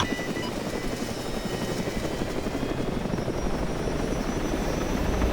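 Helicopter engines spool up for takeoff in ArmA 3 SOG, a steady loud rotor and turbine roar holding constant throughout without any talk.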